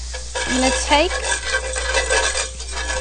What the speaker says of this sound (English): You hear how it's starting to cook and starting to sizzle.